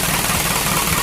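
An Isuzu 4HG1 diesel engine runs at idle with a steady, dense rumble and broadband clatter, close and continuous, with no voices.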